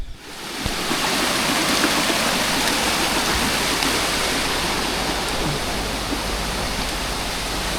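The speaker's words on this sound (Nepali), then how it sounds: "सानो खोला धेरै ठुलो त होइन" A small mountain stream on a Jugal Himal wilderness trek rushes steadily, a dense broadband hiss of flowing water that starts after a brief rustle and stays loud and constant throughout.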